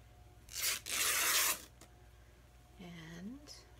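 Paper pieces for a junk journal cover are cut with scissors in a few short, close snipping and tearing bursts, followed by a soft voice speaking quietly.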